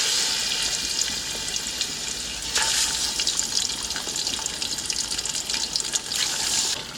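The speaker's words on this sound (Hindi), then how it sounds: "तीन से 4 मिनट के लिए इनको फ्राई करना है हमने" Chicken pieces fry in hot cooking oil in a kadhai, giving a loud, continuous crackling sizzle with bursts of sharper spatter, close and unbroken by any voice.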